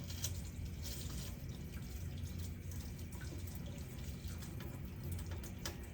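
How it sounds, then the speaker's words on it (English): A sink tap runs moderate-temperature water during denture cleaning, a soft, steady stream splashing quietly into a basin with faint intermittent drips and no talk. "throughout this whole skill, I need to be using moderate temperature water"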